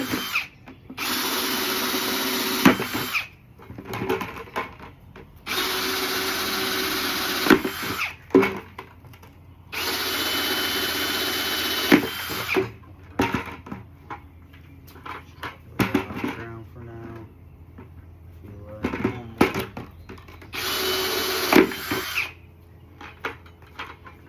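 A power drill bores a series of holes in a container for a young citrus tree, running in several loud, sustained bursts separated by short pauses and clattering handling noises.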